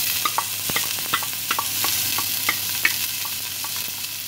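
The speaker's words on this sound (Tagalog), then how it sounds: "gisa-gisa na kami" Lamb and green beans with tomato sautéing in a pan, a steady close sizzle broken by sharp, irregular clicks and scrapes of a spatula stirring against the pan.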